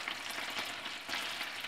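Pork tenderloin searing in a pan of melted butter, a steady bright sizzle and crackle of frying that swells slightly in bursts, close and alone without talk.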